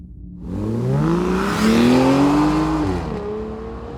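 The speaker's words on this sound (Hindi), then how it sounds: "अपनी बाइक चलाए जा रहा था" A motorbike engine hums and rises in pitch as it accelerates, then eases off, steady and fairly close with no talking.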